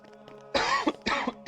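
Loud, close coughing from a man during a Xenoblade Chronicles 2 gaming session, two or three harsh broad bursts after a quiet start, with faint game sound beneath.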